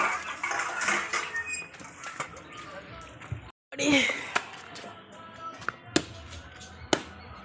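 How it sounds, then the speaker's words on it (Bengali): Dishes, pots and pans being scrubbed and rinsed, with scattered clinks and clatters of utensils against metal and running water sloshing. Sharp knocks stand out now and then, and the washing is heard close up. "বাসন মাজা হয়ে গেল"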